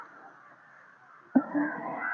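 A crow by a riverbank gives a single loud, harsh caw over a soft background hum, followed by more faint bird calls.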